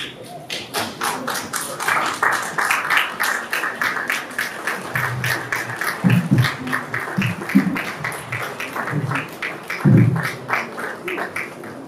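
Wedding-hall guests in Geneva applaud steadily as the civil registrar enters for a civil marriage, with brisk clapping running throughout and a few louder thumps mixed in.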